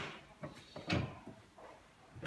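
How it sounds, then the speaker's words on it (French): A drawer in a bathroom vanity unit is slid back in and pushed fully home, giving a few soft knocks and scrapes that end in a firmer thud near the middle, followed by a fainter knock at the end. "Remettre le tiroir, aller jusqu'au bout du tiroir."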